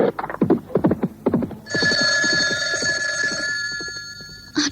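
An old-style telephone bell rings steadily and fairly close for a few seconds, heard over rhythmic clip-clop hoofbeats that carry on underneath.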